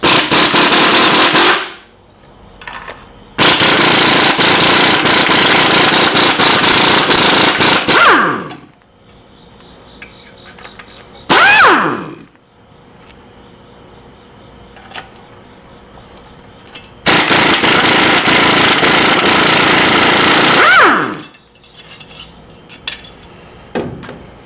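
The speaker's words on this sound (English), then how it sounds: "I prefer to use an impact because it really does lessen the chances of the bolts breaking in there" An impact wrench removes bolts during a Jimmy teardown, firing in several long, loud rattling bursts separated by quiet pauses with faint clinks of tools.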